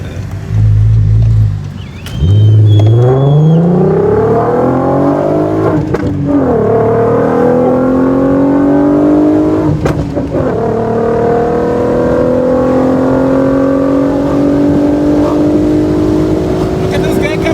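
An R32-engined Golf 5 or Audi TT accelerating hard, loud and close, with revs climbing steeply through several gear changes, each shift marked by a brief dip before the engine note rises again, under excited talk.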